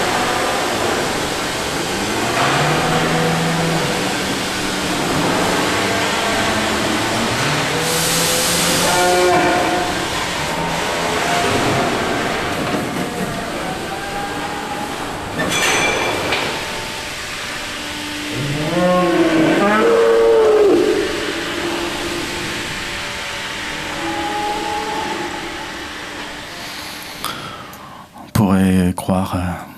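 Cattle in a slaughterhouse pen, long moaning calls that rise and fall like whale song, echoing over steady loud background noise, with a voice speaking part of the time.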